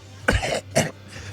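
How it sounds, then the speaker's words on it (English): Two rough, wet coughs in quick succession from a wounded man coming to after a cave-in, close and fairly loud, with a faint breathy trail afterward. "As he coughs up blood."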